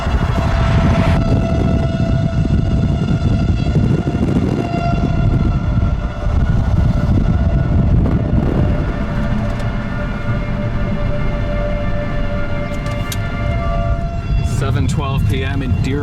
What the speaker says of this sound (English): We just have the sirens going off,